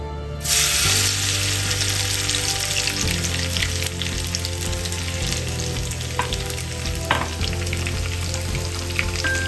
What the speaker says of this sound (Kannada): ಈಗ ಬೆಳ್ಳುಳ್ಳಿ ಹಾಕುವ. ಸಾಸಿವೆ ಇದು ಪಟ ಪಟ ಆಗಿದೆ.